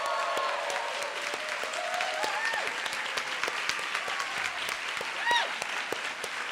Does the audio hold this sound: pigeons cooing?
no